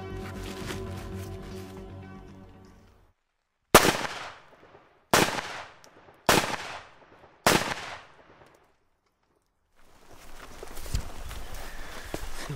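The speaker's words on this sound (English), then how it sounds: "a weapon favoured by terrorists across the world, has been loaded with exceptionally powerful Chinese armour-piercing incendiary bullets" Four sharp, loud rifle shots ring out one by one at about one-second gaps, each ending in a decaying echo. The rifle fires exceptionally powerful Chinese armour-piercing incendiary bullets into body armour fitted with a ceramic plate, with mechanical rumble before and scuffling after.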